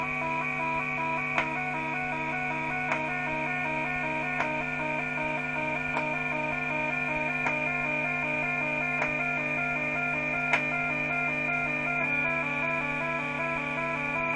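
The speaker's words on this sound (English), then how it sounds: "alter this sound you hear on the Micromoog by playing, by pushing the keys here." Micromoog analog synthesizer holding a steady buzzy tone with keys pressed to change it, giving a continuous sustained drone with faint regular clicks throughout, alone without talk.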